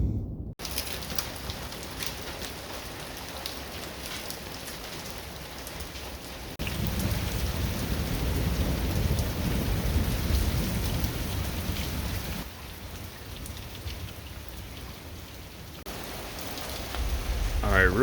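Steady heavy rain pours outdoors during a thunderstorm, with a dense hiss of drops on surfaces and low rumbles of thunder swelling and easing across the stretch, close and continuous without voices.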